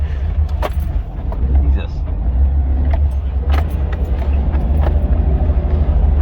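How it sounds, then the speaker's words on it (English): A Range Rover Classic engine drones low and steady while off-roading at a pay-and-play day, a loud continuous rumble with rattling and jangling bumps over it, and people talking inside the vehicle. "It's amazing how much the engine actually slows you down, isn't it?"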